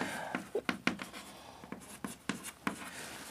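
Pen or chalk writing out a math question, a series of quick scratchy strokes in short irregular bursts, close and fairly quiet.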